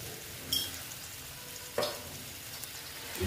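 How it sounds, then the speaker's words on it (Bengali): Poppy seeds frying in white oil in a pan, a faint, soft sizzle broken by a couple of brief clinks of a utensil, quiet and close. "দিয়ে এই যে পোস্তগুলো দিয়ে দিচ্ছি, দিয়ে পোস্তটা আমি ভেজে নিচ্ছি তেলটার মধ্যে"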